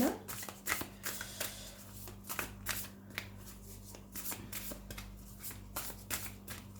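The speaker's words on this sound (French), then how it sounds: "en voyant battre les cartes" A deck of tarot cards is shuffled by hand in a quiet room: a rapid series of soft, papery riffle bursts over a low steady hum.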